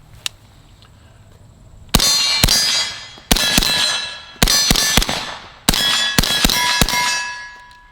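A suppressed B&T SPC9 SD 9mm carbine fires out the rest of its magazine in spaced single shots and quick pairs, each a sharp metallic clang with ringing decay, close and loud.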